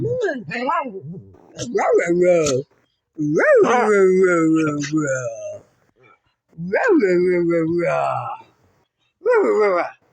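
A dog 'talks' in four long, drawn-out whining and howling vocal bursts, close and loud, with short silent gaps between them.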